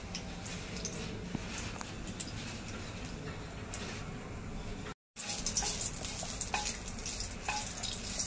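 Cloves, black peppercorns and a bay leaf sautéing in hot oil, giving a steady close crackling sizzle with light ticking pops, broken by a brief silent gap before the frying resumes.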